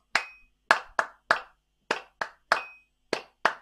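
Nine crisp hand claps in an uneven cowbell-style rhythm, close and dry with short gaps between groups, played alone as part of a warm-up session over a D Dorian scale.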